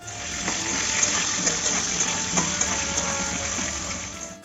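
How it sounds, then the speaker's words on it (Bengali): Potato pieces frying in oil with five-spice tempering for a Bengali fish curry, a steady close hiss of bubbling oil with occasional soft pops and light stirring, no voices. "কতক্ষণ আলুগুলো ভাজতে হবে?"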